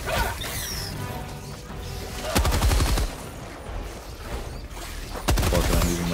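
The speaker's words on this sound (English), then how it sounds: "I'm using my shotgun" Shotgun blasts fired in the video game Helldivers during a fight with acid bugs: two heavy, loud booms about three seconds apart, each with a short ringing tail, over constant game noise and scattered effects.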